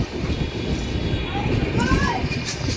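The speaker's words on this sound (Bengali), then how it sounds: "বন্ধুরা এখন আমাদের ট্রেন ছেড়ে বেরিয়ে যাচ্ছে চন্দননগর স্টেশন।" The Doon Express, a passenger train, pulling out of Chandannagar station, with a steady loud rolling rumble and wind noise heard from on board and brief faint squeals over the top.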